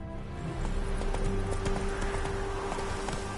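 Roach, the horse in The Witcher 3, gallops in a quick, even clip-clop of hooves under a steady tonal drone, the hoofbeats fairly close and moderately loud, with no talk over them.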